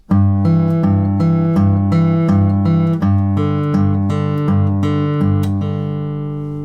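Plucked acoustic guitar bass notes from the first four bars of Freight Train alternate in a steady, even rhythm, ringing clearly on their own before fading out at the end.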